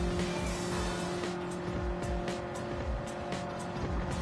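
Porsche and Lamborghini GT3 race cars in Gran Turismo 7 open lobby racing roar steadily with loud, sustained engine drone and rising gear whine, a dense continuous mix of several cars with faint tire noise.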